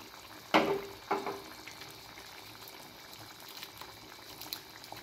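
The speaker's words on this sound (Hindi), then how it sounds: "1 पाव हम दूध डाल देंगे।" Milk poured into simmering handi seekh kabab gravy in a cooking pot, a couple of sharp splashy onsets followed by soft bubbling, close and fairly quiet.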